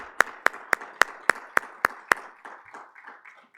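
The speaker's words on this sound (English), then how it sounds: "I would like all of us to give them a round of applause" At a law school symposium, audience members applaud Law Review students: eight sharp, evenly spaced claps ring out up close, then fade into softer, scattered clapping in the background.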